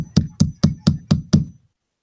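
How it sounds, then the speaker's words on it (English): Six sharp hammer blows strike something in an even, quick rhythm, each a loud close knock with a bright ringing top, then the hammering stops. "No, that's me trying to hammer something."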